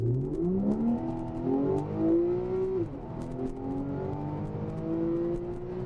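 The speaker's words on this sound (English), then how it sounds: "A little demonstration of sound, stopped in the middle of a road, just to let you hear what it sounds like when you accelerate" Porsche 911 Targa with a sports exhaust accelerating from a stop on a road, engine note climbing through the gears with a brief dip at a shift, loud and close with no talking.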